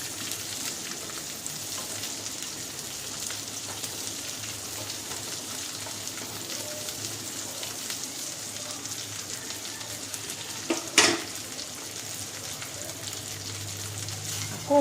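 Pointed gourd (potol) frying in a pan and being stirred, a steady close sizzle with a brief scrape of the spatula near the end.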